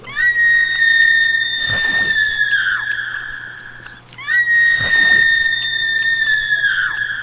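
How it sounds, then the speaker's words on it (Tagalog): Two long, shrill screams from a horror story, with a whistling, piercing tone, each lasting around three seconds, separated by a brief pause over a low steady hum. "Mga tunog ng huni at mga sigaw."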